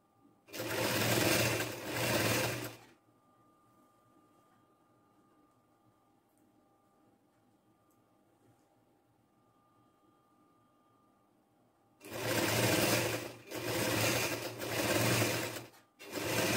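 A sewing machine stitches trouser fabric in two bursts of rapid, loud whirring and clatter, separated by about nine seconds of near silence.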